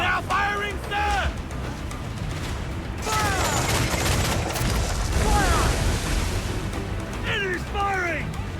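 Ship cannons firing in Assassin's Creed Black Flag, a dense, continuous roar of booming shots and crackling blasts at sea, overlaid with shouted crew voices throughout.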